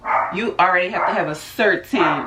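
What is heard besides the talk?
dogs barking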